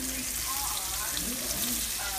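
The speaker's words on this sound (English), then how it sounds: "You do not have time to play around when you start frying fish, hon, because it cooks quick." Catfish sizzling steadily in hot frying oil, a continuous close crackle with no pauses, and a few soft voice-like tones drifting faintly underneath.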